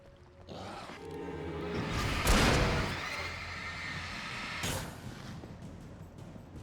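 Gunshots in Alan Wake come as two heavy booming blasts a couple of seconds apart, the first with a long rolling tail, over low ambient rumble.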